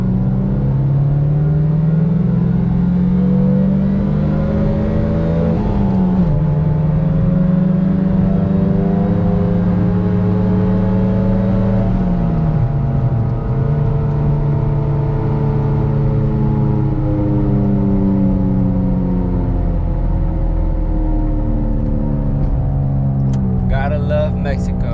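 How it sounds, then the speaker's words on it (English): A 200-horsepower Honda Civic (2001–2005 generation) pulls hard in second gear in Mexico, its engine note rising steadily for about 25 seconds with a brief dip partway, loud and close throughout with no talking. "Unleashing all 200 horsepower. Another 2nd gear pull here in Mexico."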